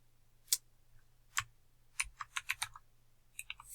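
Short burst of typing on a computer keyboard while entering a folder name: a few isolated clicks, then a quick run of close, crisp keystrokes, and a final brief cluster over a faint hum.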